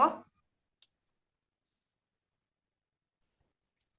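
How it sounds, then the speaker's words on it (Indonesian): A computer mouse clicks twice on a file, short and sharp with long pauses between them, after a brief burst of speech at the start. "Kita klik file H2O."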